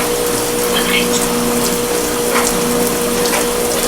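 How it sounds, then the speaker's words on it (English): A washing machine runs a long spray rinse, water rushing and hissing steadily through the drum with a pump droning underneath, continuous and fairly loud throughout. "And this is a decently long spray rinse too."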